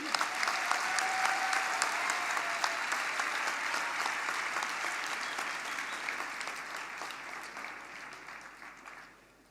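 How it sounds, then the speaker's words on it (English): A graduation audience applauds a 102-year-old graduate in a steady, dense round of clapping that holds for several seconds and then tapers off. "give him a warm round of applause for a 102-year-old"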